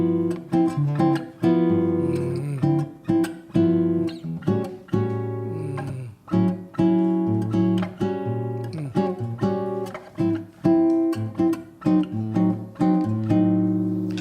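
Guitar plays a bossa nova comping pattern for the first eight bars of a song: clipped, syncopated chords struck close and clearly, alone with no voices.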